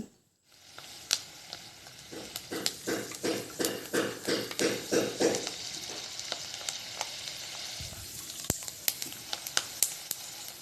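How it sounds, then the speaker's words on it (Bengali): Peanuts are fried in hot oil on a strainer, a steady sizzle with a run of rhythmic tapping and scraping strokes in the middle, then fainter scattered clicks as the frying continues. "ছাকনির ওপর রেখে এই বাদামগুলোকে ভেজে নিচ্ছি"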